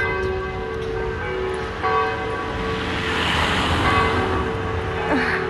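Church bells ring out with sustained, overlapping tones over a hissing outdoor background.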